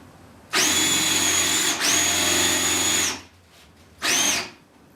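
A power drill whines at full speed in two long bursts, then spins up again briefly, loud and close with no talking.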